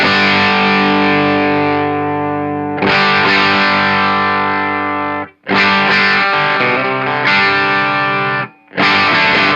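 An electric guitar runs through an Eastwood Black Box pedal with the drive set low, playing loud sustained distorted chords in several strummed phrases separated by short pauses.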